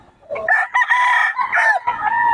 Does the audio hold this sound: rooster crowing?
yes